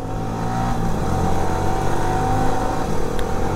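A Yamaha R15 motorcycle engine drones steadily while riding on an Odisha street, with the engine note shifting pitch slightly as it holds a constant loud hum throughout.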